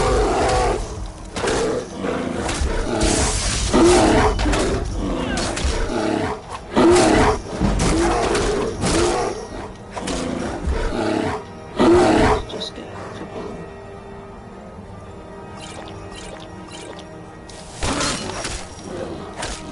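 A bear in the Skyrim video game roars and attacks, heavy bestial roars and crashing impacts in loud bursts over game ambience, with a person talking over the fight.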